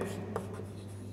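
Pen scratching across paper while a maths calculation is written out, a steady close scraping texture with one brief louder stroke partway through.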